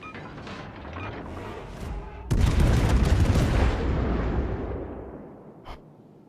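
Main guns of the German cruiser Hindenburg fire in a World of Warships naval battle, a heavy booming salvo that rumbles and slowly fades, with a brief crack near the end.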